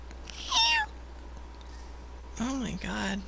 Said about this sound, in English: Was that a Pran Funkels kitty I heard there?